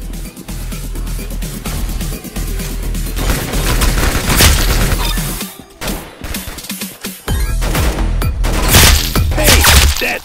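Dense, continuous gunfire and explosions from the Roblox shooter game Arsenal, loud and sustained with rapid shots, booms and crashes, broken by a couple of short drops in intensity.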